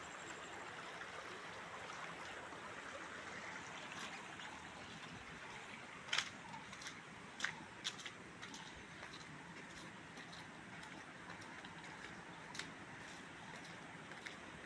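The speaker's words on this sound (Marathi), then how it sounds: "हा ओढा आहे. पाणी इकडनं इकडे जात आहे." A stream flows beside the village goddess temple in Anjanvel, a faint, continuous watery rush heard from a short distance, with a few brief clicks and knocks breaking through midway.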